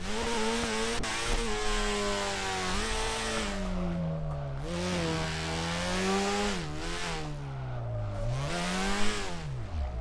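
A car engine in the DRIFT21 video game revs hard and steadily while drifting sideways, its pitch rising and dipping repeatedly through gear changes and throttle lifts over a loud, continuous drone.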